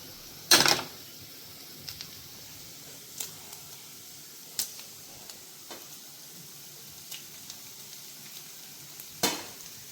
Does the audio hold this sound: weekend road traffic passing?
no